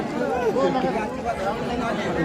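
A large crowd of devotees at the Yellamma Devi fair in Kasegaon produces a dense, continuous babble of many overlapping voices, close and steady throughout.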